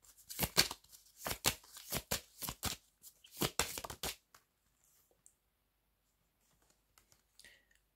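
Cards are shuffled for a reading in a rapid burst of riffling, crisp flutters over the first few seconds, then quiet with only faint ticks.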